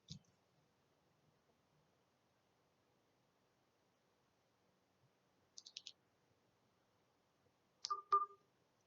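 A telephone gives a few short, faint electronic beeps in otherwise near-silent surroundings, one small cluster midway and a louder pair near the end.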